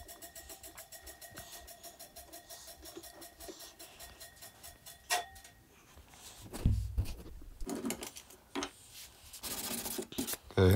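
Quick hand sanding of dried wood veneer on a corner cabinet, a soft papery rubbing that comes in rough strokes, steady at first and then in louder, uneven bursts toward the end.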